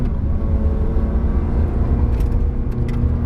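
A Ferrari 360 Challenge Stradale V8 idles with a steady, loud low rumble, close and continuous, no voices over it.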